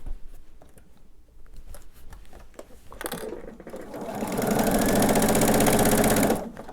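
A sewing machine stitches quilt binding, starting after a few soft handling sounds and then running in a loud, fast, steady mechanical whir close by for a couple of seconds before stopping.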